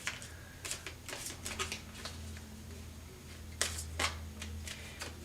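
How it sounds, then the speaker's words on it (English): Tarot cards are shuffled by hand close by, giving a series of crisp, papery flicks and riffles in irregular clusters over a quiet background hum. "Every time I shuffle these cards,"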